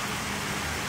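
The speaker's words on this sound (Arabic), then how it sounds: "مغيمة غيوم وامطار" Steady rain falls on city streets, a dense, even hiss of drops spread across the whole moment with a low rumble beneath, with no voices.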